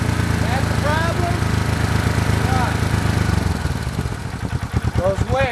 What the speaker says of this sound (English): you're pulling your clutch cable, and your bike won't idle down.